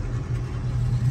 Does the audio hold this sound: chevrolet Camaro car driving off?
yes